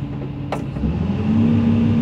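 Hitachi ZX200 excavator diesel engine running at high idle near 2000 RPM, a steady loud hum with a low drone that rises slightly midway, plus a brief click near the start.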